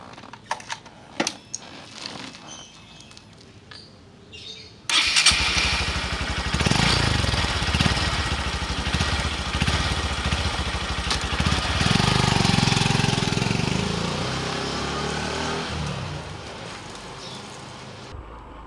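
Honda Verza 2013 motorcycle pulling away and riding, a steady mid-pitched engine drone that starts abruptly after a few seconds of quieter idling and handling noise, swelling louder midway and staying close throughout.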